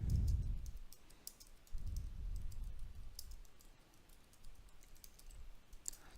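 Keystrokes on a computer keyboard while a new paragraph is written in a text document, light scattered clicks in an uneven rhythm over a low background rumble, no speech.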